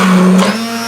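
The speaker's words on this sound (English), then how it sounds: "before I start blending it with my immersion blender" An immersion blender whirs through cooked apple butter made in an Instant Pot, a loud steady motor drone with a slight pitch shift midway, no talking.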